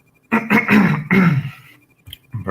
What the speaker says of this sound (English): my cough there